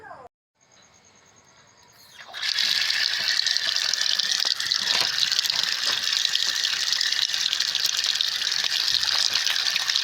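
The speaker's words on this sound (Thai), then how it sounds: "เราก็เอามาล้างน้ำสักสาม สี่น้ำนะคะ" Salted jellyfish rinsed under running water: after a brief quiet start with a faint mechanical click, a loud, steady gush of water pours continuously to the end.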